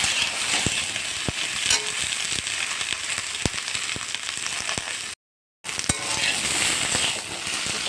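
Sliced okra (bhindi) fries lightly in a pan, a steady close sizzle with scattered sharp pops and crackles, briefly cut to silence near the end before the frying resumes.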